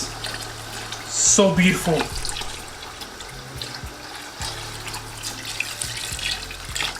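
Beef stock poured into a pilau pot, a short liquid splash and pour in the kitchen, fairly close, followed by a softer bubbling background, with a brief spoken comment.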